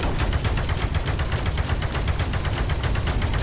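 Blaster fire in Space Pirate Trainer rattles out as a rapid, loud stream of shots, dense and continuous with no pauses and no talk.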